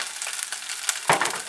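Ginger, garlic and cumin frying in a pan, a close, crackling sizzle that surges briefly near the end, with light stirring scrapes and no voices.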